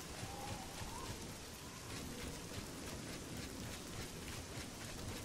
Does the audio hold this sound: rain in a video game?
yes